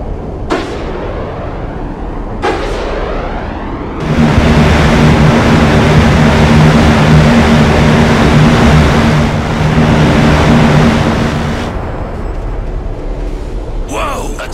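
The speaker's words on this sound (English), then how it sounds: "The sound of that gun always gives me chills." An aircraft gun fires in the Broken Arrow strategy game, a loud sustained roaring burst of rapid fire lasting several seconds, preceded by sharp single shots and trailing into engine drone, with voices talking.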